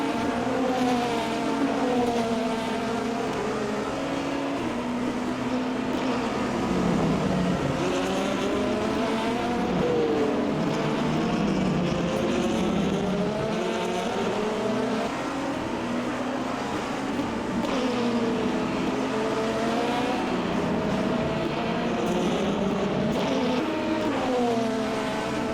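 An LMP2 prototype race car lapping Sebring in a racing sim, its engine screaming at full throttle with rising and falling pitch through upshifts and corners, loud and continuous with no talking.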